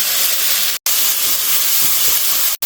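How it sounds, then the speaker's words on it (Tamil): Tomato and green chilli sautéing in a pan after ginger and garlic, a steady close broadband sizzle with steam-like hiss, briefly cut twice, no talking. "தக்காளி, பச்சை மிளகா போட்டு வதக்கிக்கலாம்."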